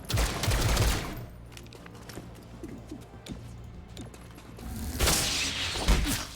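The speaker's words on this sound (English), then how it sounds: "I'm gonna shoot you." Video game gunfire from XCOM: Chimera Squad, with loud bursts of rapid shots at the start, scattered lighter shots and mechanical clicks in the middle, and another heavy volley near the end.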